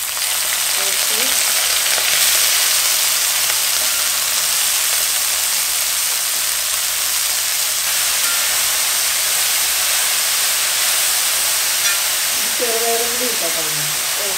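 Mustard and fenugreek seeds sizzle in hot oil in a pan, a loud, steady hiss that runs throughout, with a voice briefly heard near the end.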